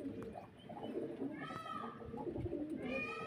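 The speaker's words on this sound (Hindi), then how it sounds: "ये मेरे घर का पट्टा है कबूतर।" Pigeons at a home in Karachi, Pakistan, coo softly with a few chirpy calls over a busy background of low murmuring and household noise; the cooing sits close but modest in level across the short stretch.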